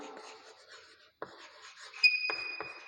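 Chalk or marker writing on a board in a maths lesson, with soft scratchy strokes and a couple of sharp squeaky taps near the end. No one talks during the strokes.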